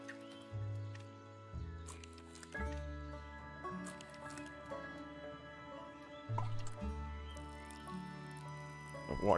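Plants being watered in the cozy gardening video game Garden In! produce soft squishy drips and splashes over gentle, sustained background music.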